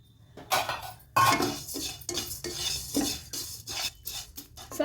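Cumin seeds roasted and stirred in a pan for a stuffed red chilli pickle: a spatula scrapes and clatters against the metal in repeated uneven strokes, close and fairly loud, with no talking.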